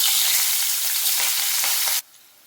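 Green chillies hiss loudly in a hot oil tempering for South Indian raw mango rice, with a few stirring scrapes. The sizzle cuts off abruptly near the end, leaving quiet.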